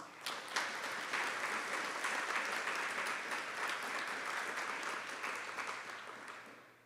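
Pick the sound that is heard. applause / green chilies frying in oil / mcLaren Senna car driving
applause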